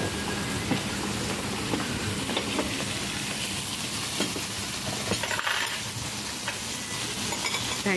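Beef sizzling platter hissing and crackling steadily at Eurasia Restaurant, a dense continuous sizzle close by with faint clinks of cutlery or dishes, no talking.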